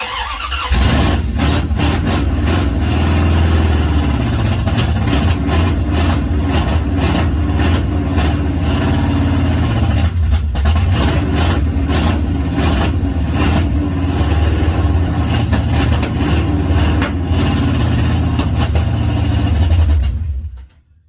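A junkyard Mopar 360 V8 in a Dodge D150 pickup cranks, catches and runs loud and close, a rough roaring idle with squealing belt noise and uneven surges, then cuts off abruptly near the end; no voices.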